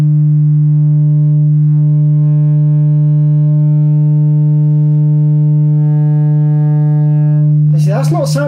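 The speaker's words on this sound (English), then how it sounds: "That doesn't really sound right. I'm wondering if the driver's not quite positioned right. It sounds very distorted." A steady low test tone with strong harmonics plays through a loudspeaker driver that may be poorly positioned, sounding buzzy and distorted throughout; near the end a brief gliding, warbling chirp sweep cuts in.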